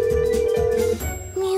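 Telephone ringing in an animated bedtime cartoon, a bright electronic ring tone sounding in bursts with a brief gap, loud and close over light background music.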